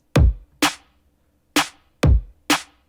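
Programmed drum beat in Soundtrap: a deep kick on beat one with snare hits on two and four, five crisp, loud hits in a steady pattern with no other sound.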